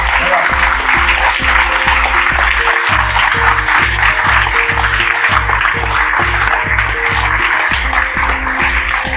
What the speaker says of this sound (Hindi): जोरदार ताली हो जाए यार।